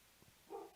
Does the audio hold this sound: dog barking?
yes